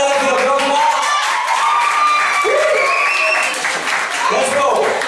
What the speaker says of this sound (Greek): Πάμε ένα χειροκρότημα!